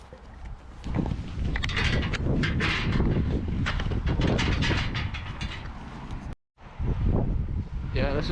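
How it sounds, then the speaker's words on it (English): Loud gusting wind buffets the microphone at a roadside beside an old stone bridge in a wild Scottish glen, a continuous low roar with bursts and a brief cut-out near the end. "It's a wee bit more windy down here at the roadside"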